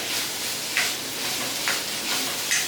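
Chopped onion and green chili sautéing in a pan for a curry-leaf chicken roast, a steady sizzle broken by stirring scrapes about every second, close and alone.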